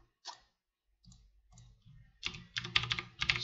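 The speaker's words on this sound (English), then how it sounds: "We're gonna press Control C," Computer keyboard keys are pressed for a copy shortcut, giving a few sparse clicks that build into a quick, close burst of clattering keystrokes.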